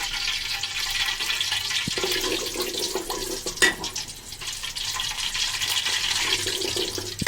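Dried chilies sizzle in hot oil in a home kitchen pan while cooking a Bangladeshi rice dish, a steady close hiss and crackle running throughout with one brief sharp clink partway through.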